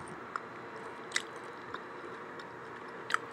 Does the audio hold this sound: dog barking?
no